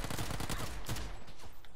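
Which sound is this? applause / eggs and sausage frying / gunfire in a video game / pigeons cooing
gunfire in a video game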